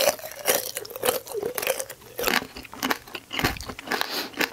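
Close, crisp biting and crunching of cherry tanghulu, the hard candy shell cracking in repeated bursts between chewing sounds, loud and intimate with no talk.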